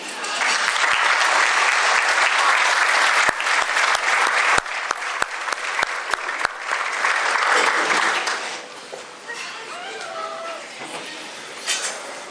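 Applause for the Junior Achievement kids at a business hall of fame event, sustained clapping from a large audience with a few sharp louder claps, tapering off into murmuring voices.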